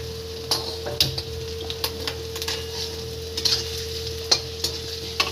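Ingredients for aloo chuda fry in a pan under quick stirring, with crisp utensil taps and scrapes at irregular intervals over a soft, steady sizzle and a faint background hum, with nobody speaking.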